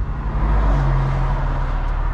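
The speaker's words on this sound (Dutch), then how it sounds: "die gorgelende uitlaat achter je" A BMW M convertible's exhaust gurgles with a steady low rumble as the car drives onto a motorway, engine drone holding close and constant with road noise beneath it.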